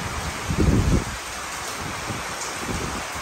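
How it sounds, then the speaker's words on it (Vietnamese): Heavy rain in rural Vinh Thuan, Kien Giang, Vietnam: a steady dense hiss of downpour with a brief louder rush of water near the start. "Mưa lớn quá trời luôn á."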